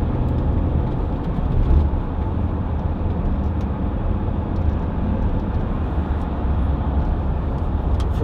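A Volvo XC60 2.4 D5 diesel SUV pulling in fourth gear, with a steady low engine drone and road rumble heard from inside the cabin, constant and fairly loud, with no talk.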